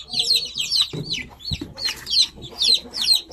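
Newly hatched native chickens in a small backyard yard, peeping in quick repeated high chirps, close and busy, with a couple of soft low thumps between.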